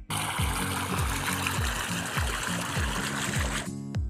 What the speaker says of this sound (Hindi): देख सकते हैं आप कैसे पानी जा रहा है अभी